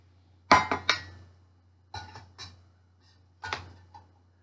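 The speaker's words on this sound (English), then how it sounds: "So you can hang your spoon off the canteen cup" A metal tablespoon clinks against a canteen cup from a five-piece mess kit, making sharp, ringing metallic taps in three small clusters, close and clear against a faint low hum.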